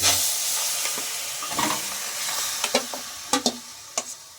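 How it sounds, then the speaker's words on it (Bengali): Yoghurt-marinated chicken fries on a high flame with no oil, giving a hissing sizzle that fades and a few sharp scrapes and knocks of a spoon stirring in the pan. "এবার হাই ফ্লেমে এটাকে ভেজে নেব"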